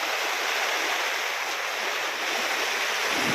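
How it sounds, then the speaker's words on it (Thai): Heavy rain hammers a campsite in Thong Pha Phum National Park, a loud, dense, unbroken roar close by with no voices over it. "ฝนตกหนักมากเลย"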